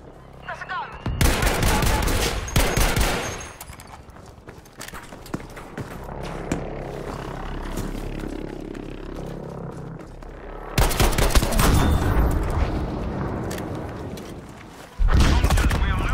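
Loud bursts of automatic gunfire in Battlefield 5 come in clusters, a long volley early, quieter battle noise in between, then renewed heavy firing near the end, with voices under the combat.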